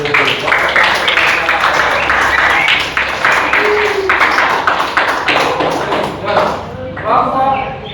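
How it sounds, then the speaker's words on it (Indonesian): A classroom group applauds with dense, loud, sustained clapping that goes on for several seconds and thins out toward the end, with voices mixed in. "tepuk tangan dulu"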